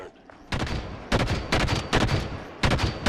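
Bursts of gunfire in the Halo 5 video game as a jackal sniper is taken down, four or five loud broadband volleys in quick succession with short gaps, no talking over them.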